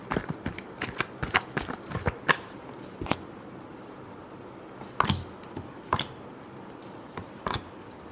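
Tarot cards are shuffled in short bursts of crisp riffling and slapping, irregular and close, with quiet pauses between the handfuls.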